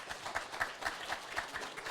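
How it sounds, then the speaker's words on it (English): An audience at an AI conference applauding, a short burst of scattered clapping heard from the hall at moderate level, with no voices over it. "All right, another round of applause,"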